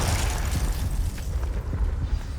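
Confringo blasting spell from Hogwarts Legacy erupts in heavy booming explosions with deep rumbling bursts, loud and close throughout the short stretch.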